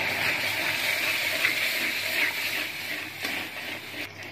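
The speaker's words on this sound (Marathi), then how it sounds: "आता आपण त्यामध्ये डाळ ओतून घेणार आहोत शिजलेली" Cooked dal poured into a hot spiced tempering seasoned with turmeric and Khandeshi masala gives a continuous loud wet gushing and sizzling that runs steadily throughout, briefly tailing off near the end.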